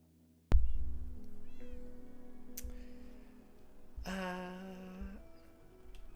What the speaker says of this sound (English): I should let my kitty cat out.